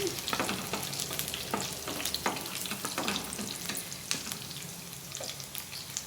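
Crushed garlic cloves fry in a pan for a moong dal curry, a steady, fairly quiet sizzle punctuated by repeated spatula taps and stirring scrapes at an irregular rhythm, with no voices.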